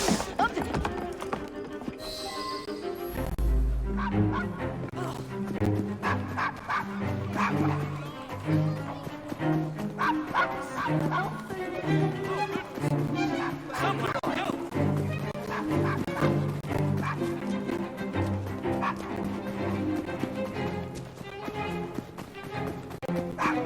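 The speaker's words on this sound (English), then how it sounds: "Nice doggy." A dog barks in the video game Assassin's Creed Syndicate, its barks mixed under a dense, continuous orchestral score with voices speaking throughout.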